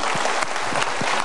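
A studio audience at a televised motivational talk show claps together in dense, sustained applause, steady and close throughout the brief moment.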